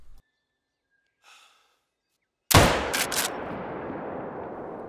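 A single sharp, loud rifle shot from a Moradi Model 1894 in theHunter Call of the Wild hunting game, cracking after a near-silent pause and fading into a long rolling echo.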